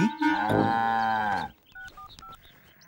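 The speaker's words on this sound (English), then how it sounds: "Now the car is making mooing noises." A cartoon car broken down on the road makes a long, loud mooing noise like a cow, followed by a few short electronic beeps in a quieter stretch.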